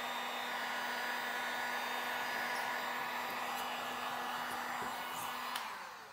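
A heat gun blows a steady, loud whooshing hum for several seconds while dry-shrinking window tint film on a car's back window, tapering slightly at the end.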